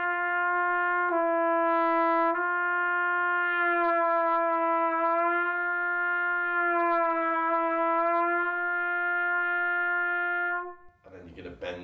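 Trumpet playing a single valved note that slurs down and back up in a smooth lip slur, a steady sustained tone with clear ringing overtones, held for about ten seconds alone before cutting off.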